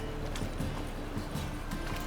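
A horse's hooves clip-clop in a steady, close rhythm in The Witcher 3 video game, heard over continuous game ambience.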